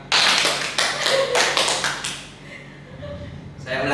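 A group claps out a classroom clap pattern in a microteaching session, several sharp claps in a quick rhythm, close and loud, followed by a brief voice.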